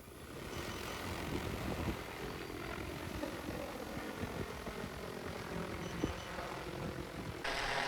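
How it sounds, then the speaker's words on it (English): An XAG P100 Pro agricultural spray drone flies overhead, its rotors producing a steady, loud whirring drone that continues without a break, with no talk over it. "you can see now the aircraft is flying above me"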